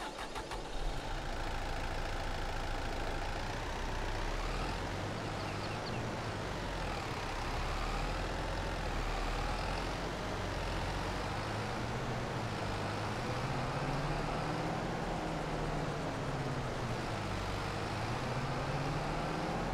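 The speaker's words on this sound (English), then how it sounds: "That other tractor, he's nearly finished as well." Steady engine drone of a tractor working fields in a farming simulator game, a continuous low rumble with shifting tones that holds a constant level throughout, with no talking over it.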